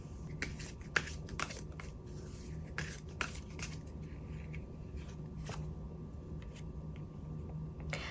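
Tarot cards being shuffled and drawn, soft close riffling and flicking with repeated sharp card snaps and slides, quiet and continuous.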